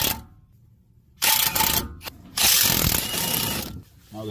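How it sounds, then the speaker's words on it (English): YOB PBLIW01 high-torque impact wrench backing out brake caliper bolts on a 2013–2019 Dodge Ram 1500: two loud, rapid rattling hammer bursts, each lasting over a second, separated by brief pauses, close up. "Today I'm using the YOB PBLIW01 high torque to remove those both."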